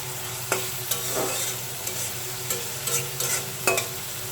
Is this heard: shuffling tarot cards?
no